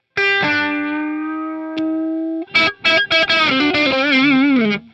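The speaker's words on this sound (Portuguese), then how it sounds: "o que é o overdrive de fato" An electric guitar through an overdrive distortion effect plays a long sustained distorted chord, then a brief attack and a run of choppy, bending notes, all loud and close.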